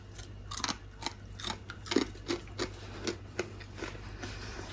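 Homemade healthy crispbread chips being crunched, a series of sharp, crisp bites and snaps at irregular intervals, close and fairly quiet over a low steady hum.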